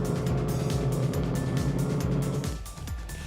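Historic race cars accelerate around turns 3 and 4 on the opening lap at Kyalami on a wet track, their engines producing a loud, continuous droning roar that dips briefly near the end.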